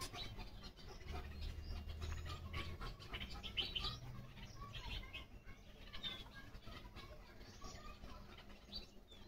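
Sparrows chirp outdoors around trees. Their calls are faint, scattered and at a distance, with occasional soft wing flutters over a low background rumble.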